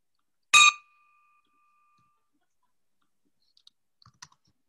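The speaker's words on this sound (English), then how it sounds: "So I'd like to ring the bell for all of the workers on that project and thank them" A single bell strike rings out clearly at a thanksgiving fellowship gathering, sounded in thanks to project workers, with a bright ringing tone that decays over about a second and a half, followed by faint clicks and small clinks.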